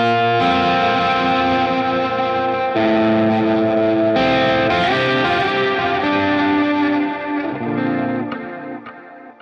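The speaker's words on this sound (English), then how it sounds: "It's a really nice stereo, wide pitched delay, lovely stuff." Baritone guitar fed through a Meris LVX's magnetic shift pitched delay, sustained chords smeared into wide stereo, warbling repeats that swell and shift pitch, loud and continuous before thinning toward the end.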